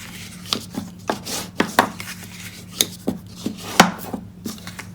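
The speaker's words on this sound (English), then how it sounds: "I'm just going to bring the bone folder in and burnish on all those score lines" Bone folder burnishing score lines on a paper treat box lid: a series of short, sharp rubbing strokes and taps, close and moderately loud, in an irregular rhythm of about a dozen hits with quiet room tone between.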